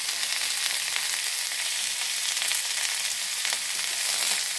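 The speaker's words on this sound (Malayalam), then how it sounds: "ഇതിന് നന്നായി ഇളക്കി യോജിപ്പിക്കാം" Onions with turmeric and salt fry in a pan with a steady, bright hiss and sizzle, with occasional soft scrapes as they are stirred.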